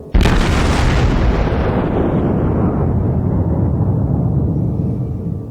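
A broadside from a Wyoming-class battleship in World of Warships lands as one loud, sudden boom at the start, then a long rumbling roar that stays heavy for several seconds.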